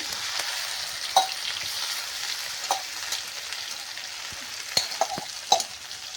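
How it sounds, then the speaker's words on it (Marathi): Spiced masala sizzling in hot oil with cumin and mustard seeds, a steady low frying hiss broken by a few sharp crackles and pops near the pan. "मसाला चांगला फ्राय होऊ द्या"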